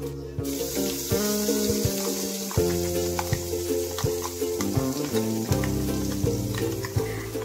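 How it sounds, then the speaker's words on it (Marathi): Mustard seeds temper in hot oil for a Konkani yam curry, giving a continuous crackling sizzle up close, dotted with small pops and the clink of a utensil. No one speaks. "हातूंत सासवाची फण्णी दिवका."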